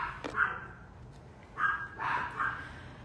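Dogs barking in a yard, a sharp yip followed by a few short barks and whimpers at moderate distance, fairly faint against quiet background.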